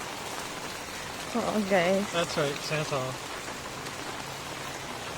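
Rain falls steadily while people walk outdoors along a street in Angeles City, a soft constant patter under a brief bit of talk.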